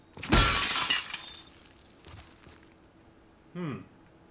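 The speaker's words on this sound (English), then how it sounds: "I think breaking the glass will alert" A single loud glass shatter in the video game The Last of Us Part II, with a sharp crash followed by tinkling debris that fades, then a brief separate sound afterward.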